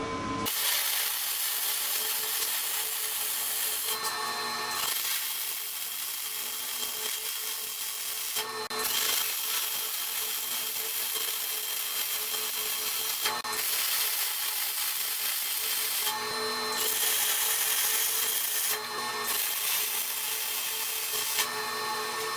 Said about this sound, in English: So we'll go ahead and weld this up.